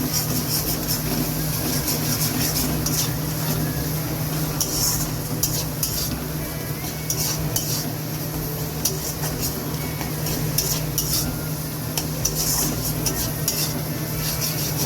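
Turmeric and chili powder are sautéed in a pan with steady stirring. A loud, continuous sizzle runs throughout with spatula scraping mixed in, close up, and no talk.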